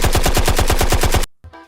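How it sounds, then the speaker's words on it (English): Rapid burst of automatic gunfire, about a dozen sharp evenly spaced shots fired loud and close for just over a second, then a sudden cut to near silence and a faint trailing noise. "Gunshots!"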